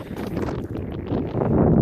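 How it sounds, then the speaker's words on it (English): Gusty wind buffets the microphone with low, rumbling blasts that swell and fade, growing stronger toward the end. "it's windy and the wind's cold"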